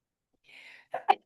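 A person sneezes with a sharp breathy intake followed by two quick explosive bursts, close and fairly quiet, with no other sound around it.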